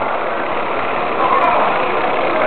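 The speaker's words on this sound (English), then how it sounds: "These are actual steam engines. Little steam engines." A small model steam engine on display runs with a steady, dense hiss and chuff, loud and close, holding an even tone for the whole stretch.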